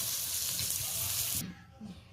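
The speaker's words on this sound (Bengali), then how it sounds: "তো উচ্ছেটা ভাজা হয়ে গেছে, আমি এখন তুলে নিচ্ছি উচ্ছেটা।" Bitter gourd frying in oil gives a steady, bright sizzle in a pan, close and constant, then cuts off abruptly as the pieces are lifted out, leaving faint clatter.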